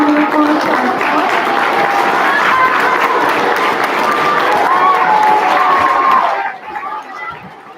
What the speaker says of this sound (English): Let's have a round of applause for ourselves.